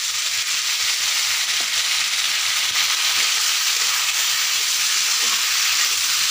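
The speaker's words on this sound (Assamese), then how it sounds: "পিঁয়াজখিনি ভজা হৈ যোৱাত মই এই কাটি থোৱা বিলাহীখিনি দি দিম।" Chopped tomatoes hit fried onions in a hot pan for a fish curry, giving a loud, steady, close sizzle and hiss that carries on without pause.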